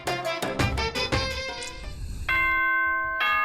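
Announcement chime from the video game Danganronpa: a run of bright bell-like tones, a quick descending sequence followed by longer sustained ringing notes, clear and alone.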